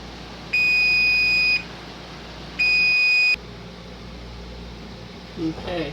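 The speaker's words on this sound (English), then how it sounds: "when that timer goes off." A kitchen timer goes off while peppers are being prepared for cowboy candy, giving two loud, steady electronic beeps of about a second each, with a gap between them and a quiet room hum around them.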